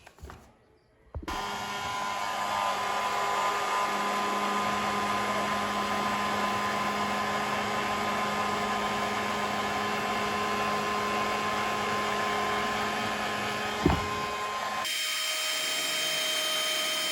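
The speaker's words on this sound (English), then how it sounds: "use a lighter or a heat gun" A heat gun blows steadily to shrink heat shrink tubing over spot-welding probes for an e-bike battery build, a loud continuous whirring hiss that starts abruptly, runs unbroken with one brief knock near the end, then cuts off.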